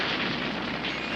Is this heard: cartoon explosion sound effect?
yes